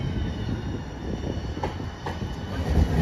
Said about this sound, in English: after this train passes